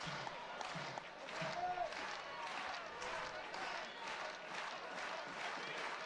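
A big crowd at a college baseball game between Auburn and Georgia swells into a steady roar and murmur. The noise is distant and soft, and a voice talks over parts of it.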